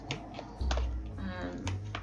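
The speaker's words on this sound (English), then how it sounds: "while I'm shuffling these cards" A deck of cards being shuffled close by indoors, giving several quick papery rustling bursts over a low steady hum, with no talking.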